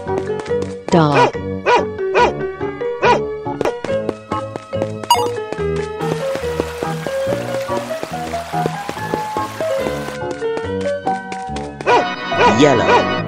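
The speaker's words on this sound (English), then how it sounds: "Dog." A dog barks a few times over a cheerful musical backing while someone talks.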